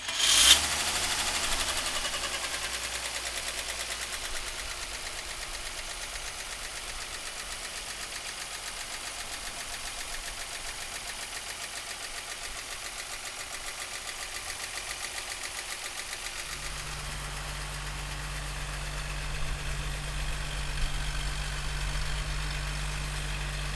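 A 1938 Chevrolet Coupe engine cranks and catches, then settles into a steady, even idle with a fine rhythmic ticking. Partway through, a low hum joins in and the idle continues unbroken.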